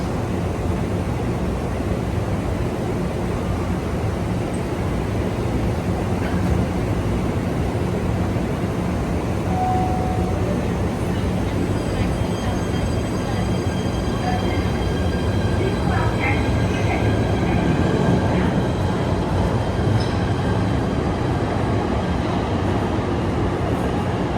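A New York subway train pulls out of a station, a steady loud rumble of wheels and motor with brief squeals and high tones rising toward the end, while voices murmur in the background.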